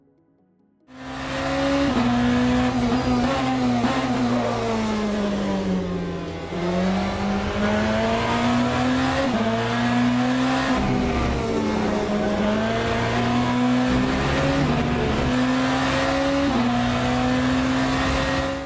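A Le Mans hypercar in the Le Mans Ultimate racing game powers out of a corner at Spa, its engine note climbing through gears in loud continuous harmonic sweeps with brief dips at each upshift, alone and close.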